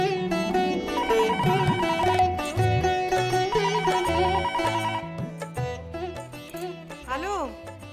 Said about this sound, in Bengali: ফোনটা যে বাজছে, তুমি ফোনটা ধরো না